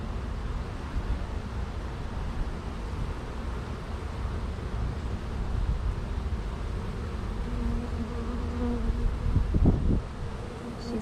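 Dense, steady buzzing of a honey bee swarm holding a virgin queen, a continuous close drone that swells slightly toward the end, with no talking.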